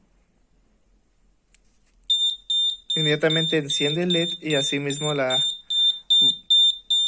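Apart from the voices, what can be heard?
buzzer of a door/window alarm sensor sounding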